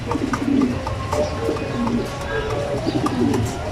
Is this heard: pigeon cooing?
yes